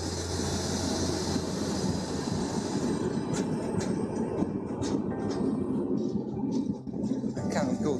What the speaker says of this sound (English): Is this tram coming?